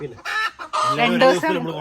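A chicken clucks close by in a quick series of loud, throaty calls, the household bird heard alone.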